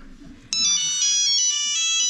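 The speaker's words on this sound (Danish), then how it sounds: "Eller Melisas mobiltelefon, der ringer midt i timen" A mobile phone ringtone suddenly starts ringing during a class, a bright repeating melodic tone that stays loud and steady after a quiet room.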